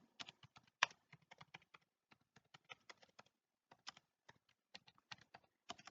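Close, crisp computer keyboard typing while writing Java code, irregular clusters of quick keystrokes with brief pauses, alone with no voice.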